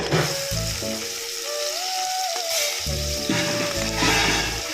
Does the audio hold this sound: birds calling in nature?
no